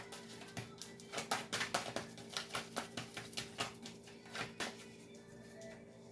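Tarot cards being shuffled by hand in a quiet room, a run of soft, rapid riffling flutters and papery slaps repeating in bursts, close and moderately loud, with no one talking.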